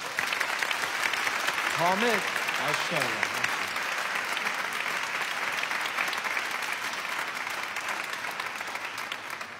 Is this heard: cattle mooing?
no